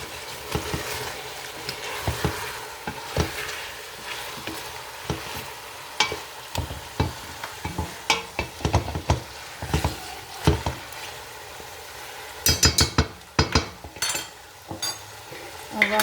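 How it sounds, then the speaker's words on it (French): Meat sizzling steadily in a pan for Algerian chakhchoukha, with repeated scraping and knocking of a utensil as it is stirred, close and continuous. "on va laisser cuire un peu jusqu'à que la viande soit un peu dorée"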